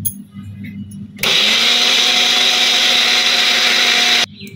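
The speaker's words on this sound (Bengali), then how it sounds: "পানি দিয়ে আবার আমি ব্লেন্ডারে একটা পেস্ট তৈরি করে নিই।" An electric kitchen blender grinds a paste of mustard, onion and chilli with a little water, a loud steady whirring drone that starts abruptly and cuts off after about three seconds, with faint sounds before and after.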